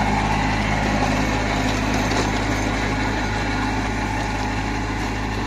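A 21 HP Kubota A211N mini tractor engine idles steadily up close, a constant low diesel rumble with no talking.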